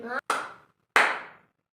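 Two sharp hand claps, spaced apart, in a first-grade classroom maths lesson counting tens in two-digit numbers. They sound close and clear, with the first clap running into a short voiced sound.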